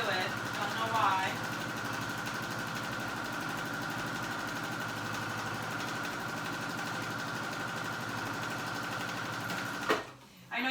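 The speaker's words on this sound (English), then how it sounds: "I know you guys are probably worried about my sewing machine. Why it's making that awful noise." A sewing machine straining with thick thread runs steadily with a harsh, labored mechanical drone that holds throughout, stopping abruptly near the end.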